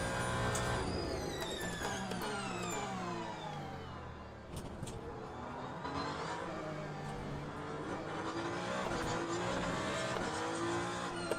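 A race car in Le Mans Ultimate laps Fuji with a loud, close engine climbing and falling through gear changes and tire squeal, together with other cars revving nearby, and no talking.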